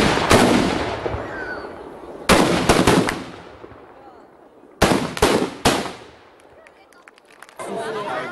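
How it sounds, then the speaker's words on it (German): Ceremonial salute shots from heavy three-hundredweight Böller cannons fired by Böller shooters at a town fair, sharp loud blasts in quick clusters of two or three, each trailing off into echo, with crowd chatter between. "Seit kurzem haben die Böllerschützen 3 Zentner schwere Salutböller aus dem ehemaligen Schloss Philippsfreude in ihre Obhut genommen."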